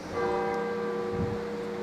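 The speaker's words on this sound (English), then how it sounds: "That's what the bells are ringing now, calling the faithful to the evensong" Church bells in Durham ring for evensong, a steady run of bell strikes carrying clearly over a short stretch with no talk over them.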